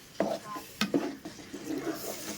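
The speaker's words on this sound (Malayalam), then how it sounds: "നല്ലോണം ഇളക്കിയും കൊടുക്കുക" Jackfruit payasam with jaggery and thinned coconut milk being stirred in a pan, giving a few soft scraping and sloshing strokes at close range with no talk.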